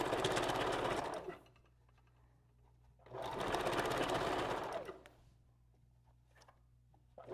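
A sewing machine back-stitching wig tracks runs in two loud, steady bursts of a few seconds each, with quiet gaps between them.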